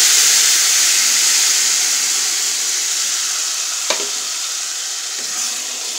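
Tomato purée frying in hot oil for Mexican red rice, a steady loud sizzle and hiss that eases slightly over time, with one brief crackle partway through.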